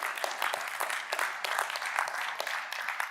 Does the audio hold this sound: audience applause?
yes